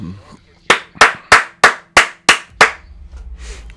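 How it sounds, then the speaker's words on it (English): A gamer's hands clap seven times in a steady sequence of sharp, loud claps during a live-streamed game session, followed by faint background noise. "No, yeah, I was clapping."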